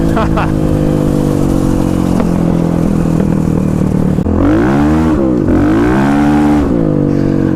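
A Kawasaki KLX351 dirt bike on new Tusk Dsport tires revs hard in second and third gear, the engine droning loud and close with rising and falling pitch as the rear tire spins, a rider's voice briefly over it.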